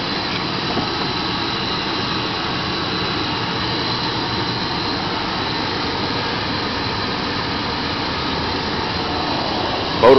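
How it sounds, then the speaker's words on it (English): A Chevrolet extended cab's engine runs at idle with a steady, loud, broadband roar that holds evenly for the whole stretch, with no talk over it. "Motor sounds good."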